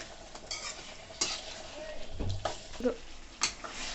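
Chicken pieces for gongura chicken sizzle in a pan while a spoon stirs them, with scraping strokes against the metal and steady frying crackle close to the microphone.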